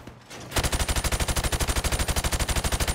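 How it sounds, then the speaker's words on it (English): Rapid automatic gunfire from Call of Duty: Modern Warfare Remastered, aimed at targets through plywood, bursts in after a short quiet lead-in as a loud, evenly spaced stream of about thirty shots in under three seconds. "I want you to shoot the targets through the wood."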